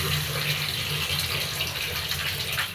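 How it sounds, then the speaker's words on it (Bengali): Water poured into a pan of fish curry, a continuous splashing gush running steadily for a few seconds at close range. "জলের ঝোলের জন্য জল দিয়ে দিলাম"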